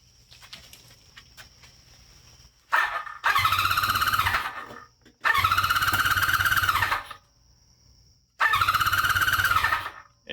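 A 1977 Honda CB400F Super Sport motorcycle, pulled from a basement, has its engine cranked over by the starter in three whirring bursts of about two seconds each, separated by short pauses.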